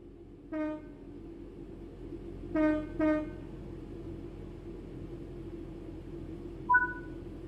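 Train horn from a locomotive in the game Train Sim World 5, sounding three harmonic blasts (one, then a pair) over a steady low rumble of the running train, with a short higher tone near the end.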